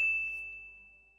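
A single bright notification bell ding rings out clearly and fades away over about a second, heard alone.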